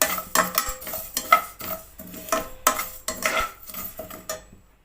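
Fenugreek and fennel seeds roasting in a pan for mango pickle, with repeated stirring scrapes of a spoon against metal and light crackling between, close and rhythmic, no talk.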